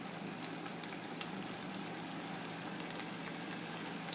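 Meat frying in a pan on a stove top over high heat, a steady dense sizzle that holds even and fairly loud throughout, with no one talking.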